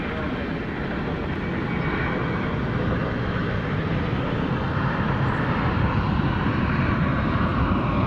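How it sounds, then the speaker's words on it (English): A 1988 Super Cargo Master cargo feeder plane for UPS arrives at Dallas Fort Worth airport at night, its engines a loud, steady, broad roar filling the whole stretch. "Super Cargo Master coming in from Abilene, Texas."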